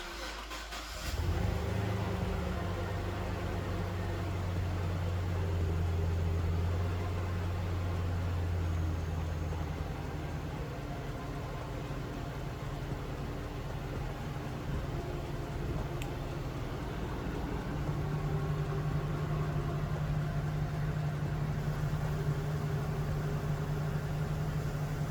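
A car engine turns over and starts after a fluid top-up, then runs at a steady, loud idle with a constant low rumble for the rest of the stretch. A slight change in tone comes partway through.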